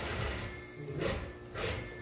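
An old party-line telephone bell rings close by in a single long ring, a steady metallic jangle that surges twice in brightness over about two seconds, with no one talking.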